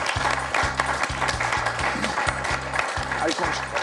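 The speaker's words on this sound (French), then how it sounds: "On peut l'applaudir, Gaëtan, pour ce magnifique 4 à la suite." A studio audience on a French TV quiz show applauds a contestant: a dense, continuous wash of clapping sits over a loud, pulsing rhythmic beat that repeats steadily throughout.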